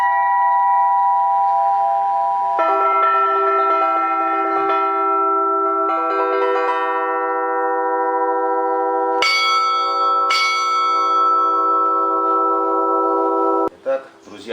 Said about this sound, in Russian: Это так называемые тонкостенные колокольчики.